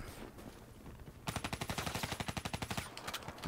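Black Ops 3 match with a fast burst of automatic gunfire, a long rhythmic string of sharp shots lasting over a second, loud and close after quieter background game noise.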